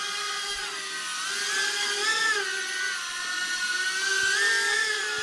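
A HydraQuad 3-in-1 drone flies with a steady, whiny high-pitched motor buzz whose pitch rises and falls slightly as the flight is adjusted, continuous and fairly close.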